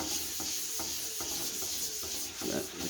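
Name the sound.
wiping stain with paper towel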